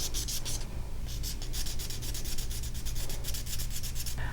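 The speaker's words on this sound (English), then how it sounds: "Yeah, I'm going to keep sanding the sides." Steady, continuous rubbing of fine-grit sandpaper along the sides of a cast resin piece, close and fairly quiet, with rhythmic strokes and no talking.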